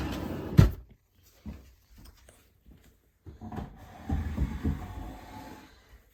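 A supplies drawer in a scrapbooking craft room being pulled open, with a sharp knock, a few short rattles and sliding scrapes, then a busier clatter of contents shifting.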